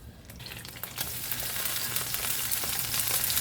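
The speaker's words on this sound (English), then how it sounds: "we're actually going to fry some of those dumplings that I already pulled out" Boiled dumplings lightly frying in a thin layer of hot oil in a pan, a steady close sizzle that rises gradually and stays loud, with a few scattered crackles and no talking.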